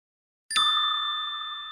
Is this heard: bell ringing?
yes